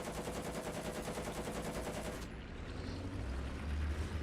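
A rapid, steady burst of machine gun fire in the tank game War Thunder, evenly spaced shots for about two seconds, then stopping abruptly, leaving a low engine rumble underneath.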